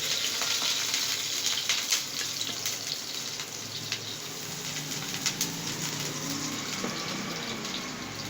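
Onions fry in a pan with a steady hiss and crackle of hot oil running throughout, moderately quiet and close, with occasional faint scrapes and clinks over it.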